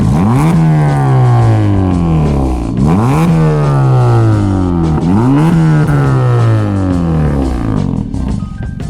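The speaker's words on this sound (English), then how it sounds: "I don't know if you want me to rev. I don't know. It might be a little loud." A TSX's engine with a custom exhaust revs hard several times, each loud rising roar dropping back before the next, close and dominant.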